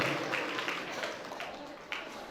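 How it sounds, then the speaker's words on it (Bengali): An audience at an English coaching centre's annual prize-giving ceremony claps in a dense, steady patter of applause that carries on throughout. "এটা জোরদার হাততালি চাইছি তার জন্য"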